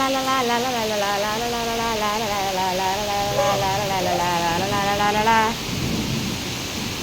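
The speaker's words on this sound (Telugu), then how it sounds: "వర్షం పడుతుంది నాన్న" Steady rain falls outdoors, a close, even hiss. For most of it a sustained voice-like tone rides over the rain, then the rain continues alone.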